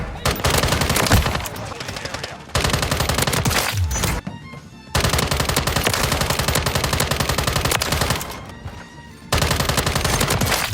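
Rapid automatic fire from the Cat AMR rifle in Modern Warfare 3, loud sustained bursts separated by short pauses, with a voice briefly audible over the shooting.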